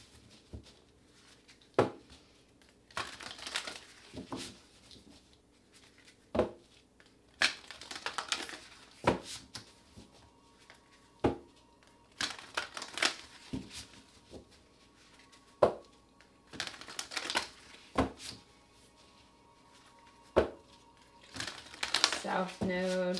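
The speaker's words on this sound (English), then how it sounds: "can I get a card out of the Moonology deck for the collective that resonates with this" A Moonology oracle card deck is handled and shuffled, with repeated sharp riffling bursts and soft card slaps at irregular intervals, quiet and close, while a voice talks softly in between.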